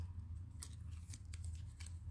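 Scissors snipping small cutouts from brown scrap paper, several quick close crisp cuts at a soft, uneven pace with no talking.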